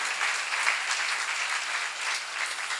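A seminar congregation breaks into steady, even applause, many hands clapping together in an indoor hall, a sustained round with no talk over it.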